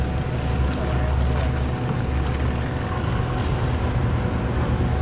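A large barge moves out past a sluice gate built to keep out salt water, its engine giving a steady low rumble mixed with wind and water noise, continuous and fairly close.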